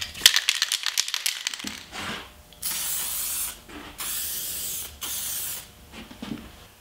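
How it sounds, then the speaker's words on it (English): An aerosol spray can lays a thin coat of lacquer over a painted wooden shadow box frame, heard as several separate steady hissing bursts of about a second each with short pauses between, preceded by brief rattling and clicking handling noises. "I'm going to spray it with a thin coat of lacquer."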